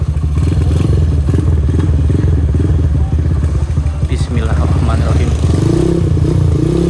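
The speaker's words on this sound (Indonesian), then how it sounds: "iki mesinnya basic Mega Pro ya bolo" Basic Honda Mega Pro CB100 motorcycle engine from the 2000s running steadily close by, with a low, continuous thrum and some mechanical clatter, while a voice speaks briefly over it.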